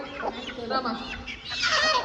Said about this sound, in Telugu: ఇది మన కోడి